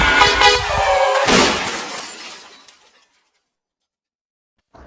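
Car crash sound effect: a loud burst of impact and shattering glass, a sharp second smash, then debris and noise fading to silence over about two seconds, with a faint new sound at the very end.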